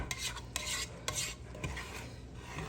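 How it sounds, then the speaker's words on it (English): Vegetables for Thanksgiving stuffing sauté in a pan, giving a soft sizzle broken by several light scrapes and clinks of a utensil stirring, heard quietly and close. "We want to get our vegetables sauteed soft, almost translucent like"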